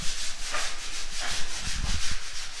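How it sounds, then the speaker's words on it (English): Steady rhythmic rubbing of sanding on a skim coat wall in a pantry area of a house under construction in the Philippines, repeated scraping strokes close by with some low knocks. "we're now sanding"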